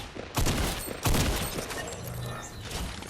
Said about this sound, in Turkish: Bir de roket atıyor ya.